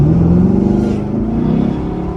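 An LT1-style sports car accelerates from inside the cabin, its engine note climbing as it builds speed, close and loud before easing slightly, with no talking.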